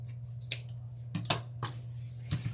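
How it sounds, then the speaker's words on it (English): Scissors trim 21-inch deco mesh on a wreath base with several crisp, close snips in about two and a half seconds, each cut followed by a short rustle of the mesh, with no talking. "So I'm just going to trim this off."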